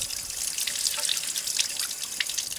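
Water runs over brass wool held under a tap before it is washed with Marseille soap, a steady close hiss of flowing and splashing water with no talk.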